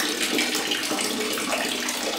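Steady, loud running water, like a tap or shower rinsing a cellulite and varicose vein treatment off the legs, a continuous splashing wash with no talking.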